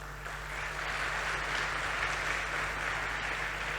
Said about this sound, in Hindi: इनके लिए ऐसी तालियां मांगता हूं